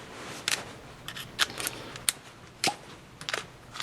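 Flat tip screwdriver snugging down a cable clamp while wiring a generator transfer switch to a gas furnace; a series of sharp, close clicks and scrapes spaced irregularly, fairly quiet.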